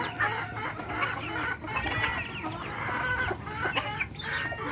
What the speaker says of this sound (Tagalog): ang mga manok ko mga idol